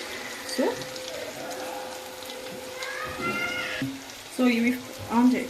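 Bondas deep frying in oil over medium heat, a moderate bubbling sizzle that goes on under speech, with a cat meowing and other household sounds at intervals.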